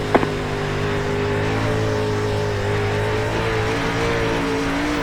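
A dirt track race car engine held at partial throttle on a slick track, a steady droning hum with a slowly wavering pitch, close and continuous with no talk over it.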